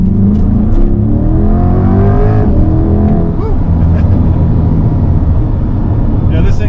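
A 2021 Chevrolet Corvette Stingray 3LT convertible with its 6.2 liter V8 accelerating on the road, the engine note climbing steadily and loudly, then steadying, with wind and road roar filling the cabin and no talk.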